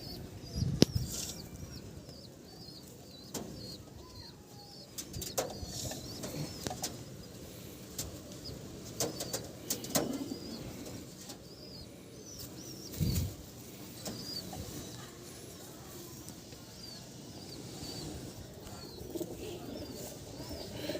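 Breeding pigeons in a loft in Howrah coo softly and flap their wings in several sudden bursts, with occasional chirps and scuffles close by.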